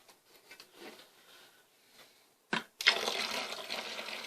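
Eight cups of water are poured into a container while homemade laundry detergent is being mixed. A brief splash is followed by a steady, loud rush of pouring liquid close by, with no voices.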